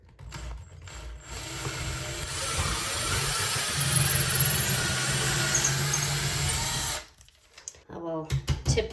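A power drill bores into a wall stud while a floating shelf is installed, a close whining grind that runs steadily for several seconds, then stops, followed by brief handling noises and a voice speaking.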